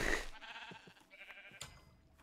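Short bleat from a sheep in Minecraft, a few brief calls over a faint background.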